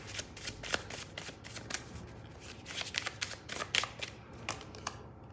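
Tarot cards are shuffled close by in quick, papery riffling bursts with a steady rhythm, fairly quiet and heard on their own.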